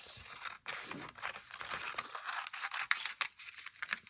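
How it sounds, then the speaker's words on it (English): Quiet snipping and rustling of paper being cut with scissors, close up, in small irregular bursts. "Take our scissors and cut"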